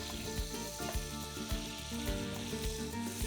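Butter melting together with warm olive oil in a pan gives a soft, continuous sizzle that sits quietly beneath louder background music.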